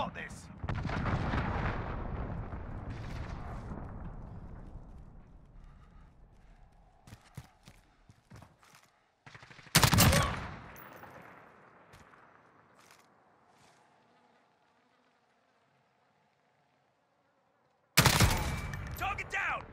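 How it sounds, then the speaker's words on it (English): Booming cruise missile strikes and gunfire in Call of Duty: Modern Warfare: a long rumbling blast fades out, then a sharp explosion and a final burst cut through the battle noise. "Allied cruise missile away."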